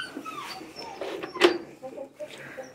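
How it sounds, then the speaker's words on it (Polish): Dogs yelping and whimpering at a farm building with a flooded boiler room, a sharp cry in the middle among scattered whines and background voices. "O, ale krzyczą psy."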